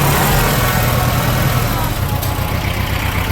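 A farm tractor engine cranks and catches with the choke applied, then runs in a steady, loud low rumble close by with no break through the whole stretch.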